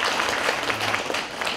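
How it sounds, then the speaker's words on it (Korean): Audience applause at a public deliberation debate on a proposed Starfield shopping mall in Changwon, a steady wash of clapping hands filling the hall for the whole moment, with no speech over it. "박수 부탁드립니다."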